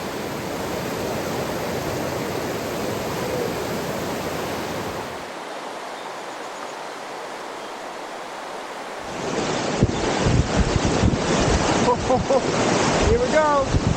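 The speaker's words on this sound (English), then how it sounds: "It's like a white water chute between two ledges." White water rapids rush through a chute between two ledges on the Metolius River, heard from a packraft as a loud, constant roar with wind buffeting the microphone and stronger splashing near the end.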